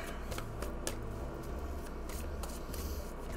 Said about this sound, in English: I gotta riffle shuffle.